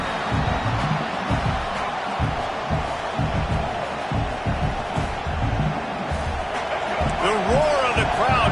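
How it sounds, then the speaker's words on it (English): Stadium crowd roaring steadily throughout at a college football game, a dense, loud wash of cheering that swells near the end, with an announcer talking over it. "The roar of the crowd trying to fuel this defense to keep them pinned in their own end"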